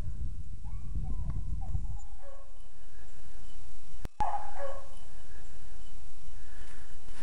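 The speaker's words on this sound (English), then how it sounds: "I was just afraid of the dogs getting into the road there." A hunting dog pack chasing a rabbit at James A. Reed Conservation Area gives a few distant bays and barks after heavy low rumbling and handling noise, faint against the open outdoor background.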